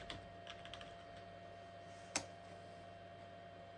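Faint, scattered keystrokes tap out a password on a computer keyboard at a Sun SunBlade 150 workstation during a Solaris 8 install, with a few quick clicks early and one sharper key press midway, in a quiet room.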